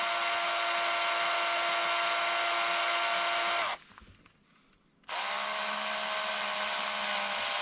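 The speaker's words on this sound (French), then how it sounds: "pour visser, tu mets la visseuse comme si tu allais dévisser, mais en fait, tu vas visser" A cordless power screwdriver drives screws into RC car shock absorbers, its motor whining steadily for several seconds, cutting out briefly, then whirring again at a slightly different pitch.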